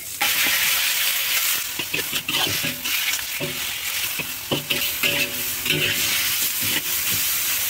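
Angus beef and onions sauté in a hot pan, giving a loud, steady sizzle with repeated stirring scrapes and clinks of a utensil against the pan throughout, and no voices.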